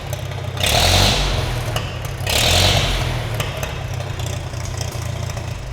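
Farmall tractor engine fitted with a new carburetor runs at a steady low rumble, swelling twice briefly as the throttle is opened, then settling back to an even idle.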